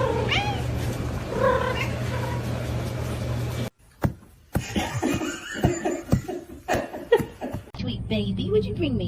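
Cats in a fight meow and caterwaul in rising, wavering cries, loud and close, followed by scuffling bursts while people talk and laugh nearby.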